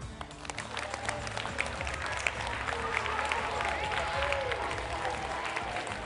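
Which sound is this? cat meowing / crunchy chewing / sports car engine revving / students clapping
students clapping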